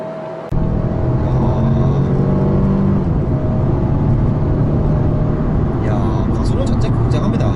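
A Mercedes-Benz A250 4MATIC sedan with AMG Line accelerating hard, engine and road noise rising to a loud, steady roar heard from inside the cabin, with a few short high chimes near the end.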